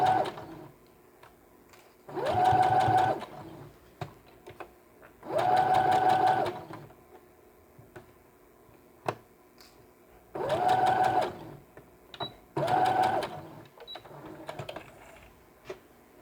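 A sewing machine stitches small doll shoes in four short, loud bursts of rapid whirring, separated by quiet pauses filled with faint handling clicks.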